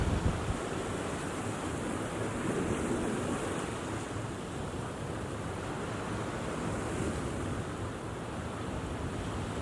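Sea water washing in over the shore on a South Wales fishing beach in winter, a steady broad wash of surf with wind buffeting the microphone throughout, no voices.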